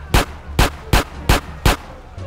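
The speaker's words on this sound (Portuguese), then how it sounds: "Eu quero ver como é que é o tiro nesse jogo aqui" Five sharp, evenly spaced gunshots ring out from GTA San Andreas Definitive Edition, each a loud punchy crack with a short tail, fired in quick succession with no talk over them.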